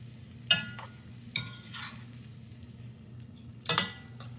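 Pasta stirred with Pecorino Romano cheese in a pan along with butternut squash and Italian sausage, a few scraping clinks of a utensil against the pan over a steady low hum, close and moderately quiet.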